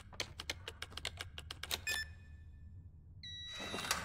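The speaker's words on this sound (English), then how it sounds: "Sorry if the sound of my mechanical keyboard is hurting anybody's ears right now." A mechanical keyboard is typed on in quick, crisp clicks for about two seconds. After a pause, game chimes and bright tones follow.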